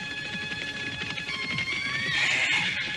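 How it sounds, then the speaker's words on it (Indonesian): Two horses gallop into a royal city in an audio drama, hooves clip-clopping in a steady rapid rhythm while whinnies and neighs ring out on top, loud and continuous throughout. "dari arah luar kota raja, berderap 2 ekor kuda memasuki kota raja."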